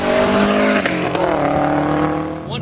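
A Subaru Legacy GT with a 2.5 engine and custom straight pipe exhaust, loud and close, the engine note holding steady and then dropping in pitch as revs fall after a sharp transient.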